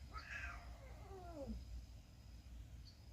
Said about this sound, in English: this is some random cat that just shows up on the porch every couple days